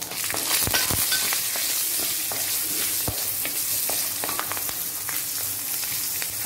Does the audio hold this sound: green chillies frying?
yes